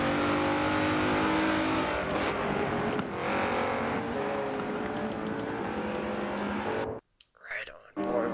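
GS class sports cars race nose to tail at Road America in a Michelin Pilot Challenge round, their engines droning steadily and loud under a commentator's voice. Near the end the sound cuts out briefly.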